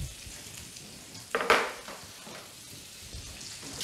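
Peach pieces hitting hot oil in a pan burst into a sharp sizzle midway, a crackling frying hiss that then settles to a quieter, steady fizz.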